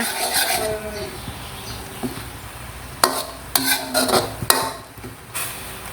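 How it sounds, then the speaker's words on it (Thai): Tapioca starch sauce being stirred in a pot, with a low simmering hiss underneath and several sharp clinks and scrapes of the utensil against the pot in the second half. "คนให้แป้งมันสุกแบบนี้ค่ะ"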